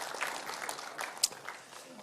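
Audience applause at a CEO breakfast seminar on the economic outlook, a brief, faint patter of clapping from a room of listeners, heard softly in the background.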